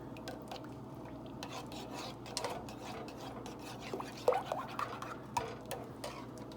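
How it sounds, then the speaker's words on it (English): Soft scraping and stirring of a utensil in a pan as seasonings go into Alfredo sauce with meat, faint light clinks and rubbing noises scattered unevenly, close and quiet with no talking. "I'm just adding my seasonings in there right now"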